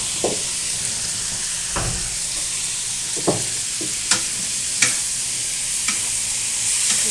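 Black pepper stir-fried in a pan: a steady broadband sizzle with about eight sharp scrapes and clatters of a utensil against the pan at uneven intervals, close and moderately loud, with no talking.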